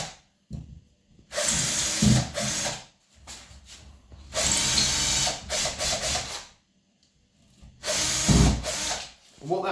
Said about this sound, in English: leave the template on and drill through it